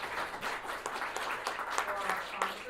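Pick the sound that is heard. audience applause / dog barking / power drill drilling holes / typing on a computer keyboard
audience applause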